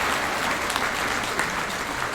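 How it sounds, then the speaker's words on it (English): An audience at a champions tribute event gives sponsors a brief, dense round of applause, many hands clapping together at a steady level. "give them a big round of applause"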